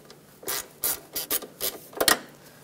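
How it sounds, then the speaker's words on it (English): A 10 millimeter bolt is worked loose from the factory ground point on a 2013-2020 Nissan Pathfinder, giving several short, close ratcheting rasps in uneven bursts with pauses between, with no talking. "I'm going to take this bolt out."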